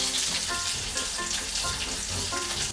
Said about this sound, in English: We're gonna cook the meat in a low heat for about 2 minutes.